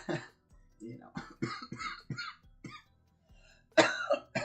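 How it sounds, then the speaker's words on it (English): A person coughs repeatedly in short, irregular bursts with quiet gaps between them, close to the microphone, ending in a louder, harsher cough. "Hopefully I don't spend this entire stream coughing"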